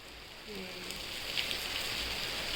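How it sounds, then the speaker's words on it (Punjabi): Steady rain pours down outdoors in Punjab, a dense even hiss holding for the whole stretch at moderate level, with no one speaking. "ਹੁਣ ਆ ਗਿਆ ਮੀਂਹ"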